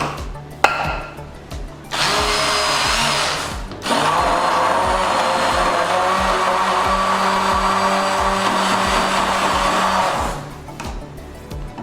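A blender runs in loud sustained bursts, mixing a chocolate glaze emulsion, starting briefly, pausing, then whirring steadily for several seconds before stopping.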